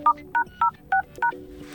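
Dialing tones from a Xiaomi 14 phone keypad as a short code is entered, five evenly spaced beeps in quick succession, clear and close.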